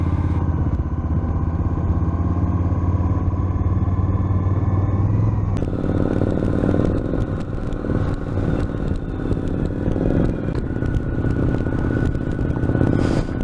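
A motorcycle ridden by a newly licensed rider cruises along an open road, its engine droning steadily and close with a gear change partway through, under continuous wind and road noise.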